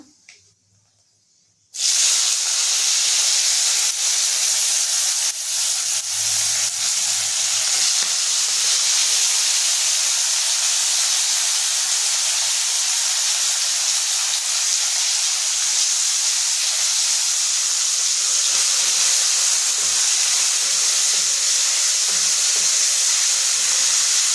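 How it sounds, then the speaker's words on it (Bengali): Sliced onions hit hot oil in a pan for egg curry and burst into a loud, steady sizzle that continues unbroken after a brief quiet start, with faint stirring underneath. "লাল লাল করে ভেজে নিচ্ছি।"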